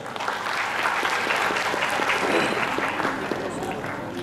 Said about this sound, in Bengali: তাদের জন্য একটা জোরে হাততালি হয়ে যায়।